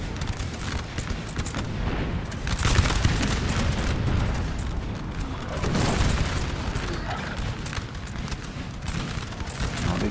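Massed musket volleys crackle and boom across a Napoleonic-era battlefield in the Total War strategy game, a dense, continuous roar of fusillades with heavier swells of firing throughout.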